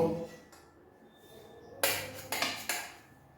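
A knife slices through boiled eggs on a plate, giving three or four sharp clinks of metal against the plate after a quiet start. The hits are close and clear, with no talk over them.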